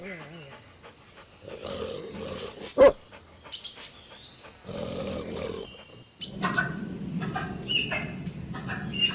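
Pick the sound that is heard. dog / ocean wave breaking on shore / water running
dog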